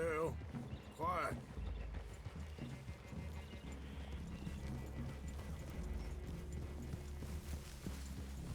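Horse hooves clip-clopping in the video game Red Dead Redemption 2, an irregular walking rhythm of hoofbeats with a brief whinny near the start, moderately close and under low background music.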